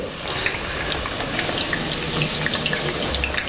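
Cold water pours steadily from a kitchen tap over burned fingers, a continuous close hiss and splash filling the whole stretch without speech.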